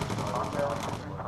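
Aircraft gun turrets rattle in the bomber game Bomber Crew, with steady rapid bursts under a roaring engine drone while someone talks over them.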